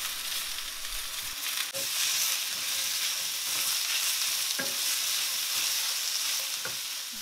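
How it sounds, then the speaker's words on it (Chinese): Chopped onion hitting a pan of seafood mushrooms already stir-fried until fragrant, a dense, loud, continuous sizzle up close with a few scattered spatula knocks and no voices. "煸香海鲜菇之后，就倒入切好的洋葱，"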